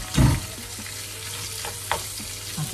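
Chicken pieces go into hot oil with garlic for a chicken, leek and bacon pie, giving a loud splash at the start that settles into a steady close sizzle with a couple of brief stirring knocks.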